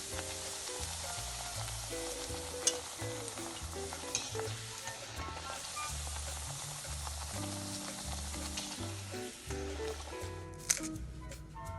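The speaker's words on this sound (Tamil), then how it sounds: "இப்போ நம்ம பொரிக்கிறோம்" Oil sizzles and crackles steadily as thattai snacks deep-fry over medium flame, a dense hiss throughout with occasional sharp pops, alongside a faint repeating musical pattern in the background.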